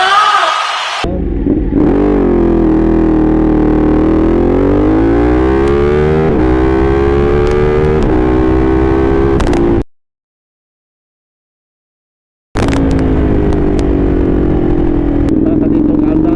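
A Ducati Panigale 1199S Öhlins superbike accelerates hard from a standstill, its engine note climbing loudly through rising revs before cutting to silence, then roaring back up again.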